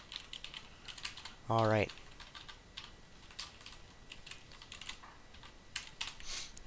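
Quiet, steady clicking of a computer keyboard as code is typed, with soft irregular keystrokes throughout and a brief spoken word near the start.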